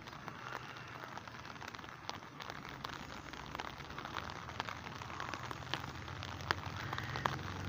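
Light drizzle falls outdoors in Taxila as cool weather sets in, a faint, even patter of fine drops that goes on throughout with no talk.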